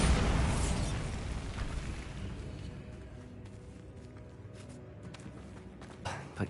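A Bombarda blasting spell goes off in Hogwarts Legacy as a loud, close explosion that booms at once, then rumbles and crackles away into fainter debris noise and small pops.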